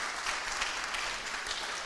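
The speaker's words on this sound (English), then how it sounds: "Please give applause." Seminar audience applauding at an international philosophy seminar: a brief, steady burst of many hands clapping, even in level and fairly close, with no voices over it.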